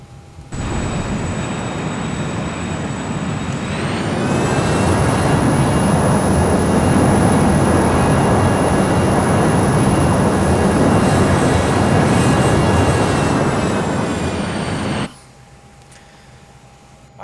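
Aircraft engines roar into reverse thrust after landing, a loud broadband rush with a rising whine that swells, holds for about ten seconds, then cuts off sharply.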